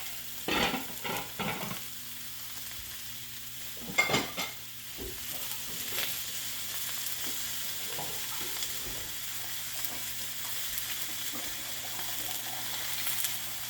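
Sausages cooking in a pan on a stove, a faint, steady sizzle with a few louder clatters and stirring knocks near the start, no voices.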